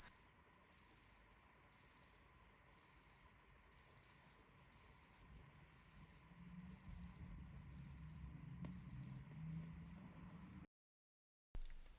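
Casio G-Shock G7800 digital watch alarm sounding in quick repeating bursts of four high electronic beeps, evenly spaced, over a low steady hum and rumble, ending in brief silence.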